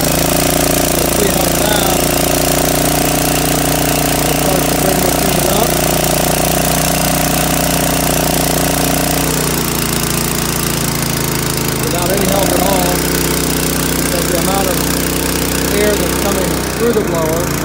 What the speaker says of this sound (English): The blower, once you get it up, you can decelerate it, which will slow down the airflow, keep the unit nice and hard.